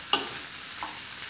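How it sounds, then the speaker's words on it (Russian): Steady high hiss of potatoes frying in a pan over high heat, with a brief scrape of stirring near the start and another faint one later. "И сначала обжариваем на сильном огне до румяной корочки. Вот сейчас помешаю."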